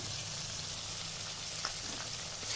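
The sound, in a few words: stirring ginger garlic paste and nut paste for egg curry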